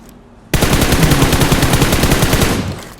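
Rapid automatic gunfire in a shooter video game, a loud sustained burst of evenly spaced shots lasting over two seconds after a quiet start, then tapering off.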